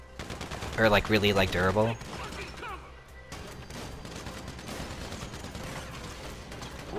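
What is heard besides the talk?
gunfire at pallets in the video game GTA 5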